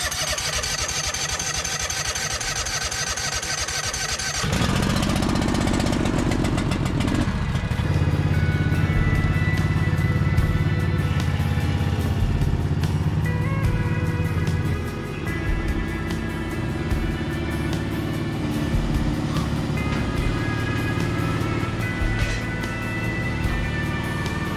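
John Deere Z445 zero turn mower engine cranks and catches after a short stretch of background noise, then settles into a loud, steady running idle close by, with no talking over it.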